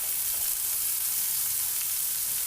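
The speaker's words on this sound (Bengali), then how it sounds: "তো এখন আমি এর মধ্যে দিয়ে দিচ্ছি আমাদের কুচি করে রাখা যে পেঁয়াজগুলো।" Chopped onions hit a pan of frying pointed gourd, giving a steady, dense, even sizzle that holds close and constant throughout with no voices.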